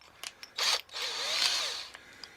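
Cheap handheld drill with a costly bit boring through sheet metal for a mini bike seat, a short whine then a longer sustained grinding screech, close and loud.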